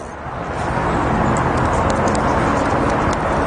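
A parrot imitating a horse, giving a sustained, rough whinny-like call that swells and holds for several seconds, loud and close.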